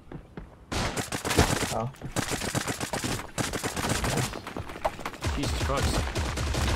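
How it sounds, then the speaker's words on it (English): Rapid automatic gunfire rattles in dense bursts during an online shooter game match, with a brief pause in the shooting, while a player speaks over it. "I was shooting the wall open for you and it went through the wall"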